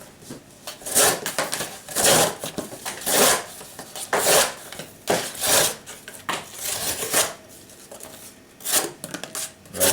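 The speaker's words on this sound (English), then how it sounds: "Cardboard sharpening" A knife blade is stroked repeatedly across cardboard to sharpen it, giving rhythmic rasping swishes about once per second, close and fairly loud, with short pauses between strokes.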